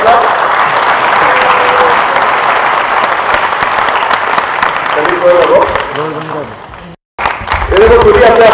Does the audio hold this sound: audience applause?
yes